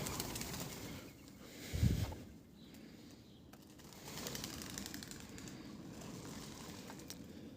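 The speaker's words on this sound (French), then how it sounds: "Ah, les oiseaux qui se battent." Outdoor birds scuffle with a single brief burst of wing flapping and fluttering, faint against steady background hiss.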